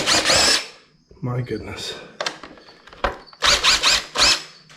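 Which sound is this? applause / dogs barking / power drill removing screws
power drill removing screws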